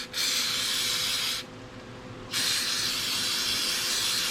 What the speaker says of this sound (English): first thing I'm gonna do is spray off all these parts here